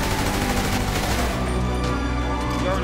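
Rapid bursts of AK rifle fire inside a warehouse shootout in the video game GTA 5, loud and continuous from start to finish, with shots crowding into a dense, sustained fusillade.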